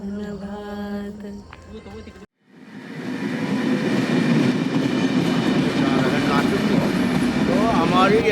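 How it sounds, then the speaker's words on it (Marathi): A train on the Lokmanya Tilak Terminus Mumbai to Banaras route rumbles on the rails in a steady, loud, continuous roll. It starts after a short burst of tonal music and keeps going to the end. "तो हमारी ये जो ट्रेन है"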